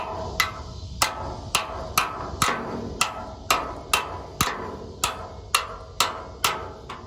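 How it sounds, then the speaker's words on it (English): A steel punch is struck with a hammer to drive a bushing out of a vehicle frame during a teardown, giving about fifteen sharp, evenly spaced metallic blows at a steady rhythm, close and loud with no talking. "Driving the bushing out with the punch."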